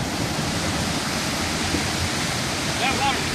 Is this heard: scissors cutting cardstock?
no